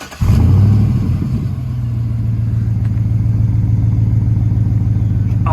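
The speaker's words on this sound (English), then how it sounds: "I'm gonna rev it up so you guys can hear it" A 2009 GMC Sierra 1500 Denali pickup with a 6.2L V8 and aftermarket exhaust fires up with a sharp rev, then settles into a loud, steady, deep idle rumble close by.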